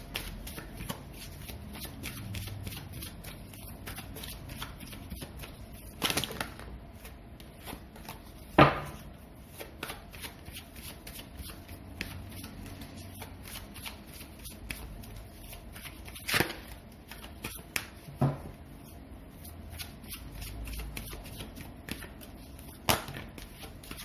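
Tarot cards shuffled over and over in a steady, fairly quiet riffling, with a few sharper slaps and snaps as the deck is handled and cards are laid down.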